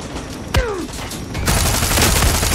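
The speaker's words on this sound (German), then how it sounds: "Wo kommen die Schüsse?" Gunfire in the shooter Far Cry 6: a single sharp shot rings out early, then a dense, continuous volley of rapid shots takes over for the rest, loud and close with no talking.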